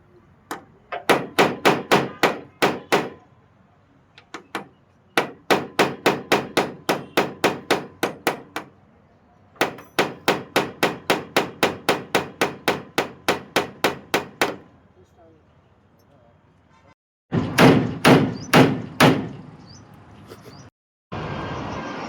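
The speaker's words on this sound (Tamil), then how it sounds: "சின்ன போல்ட்டு தட்டவே முடியல அவ்வளோ ஃபுல் டைட் ஆகுது" Repeated hammer blows on a small, fully seized bolt during vehicle repair work, struck in fast rhythmic bursts of about a dozen sharp metallic hits each, separated by brief pauses, loud and close.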